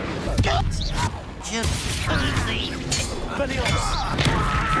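The Incendio fire spell in Hogwarts Legacy bursts during a battle in a series of crackling blasts and thuds, with voices shouting over the spell effects.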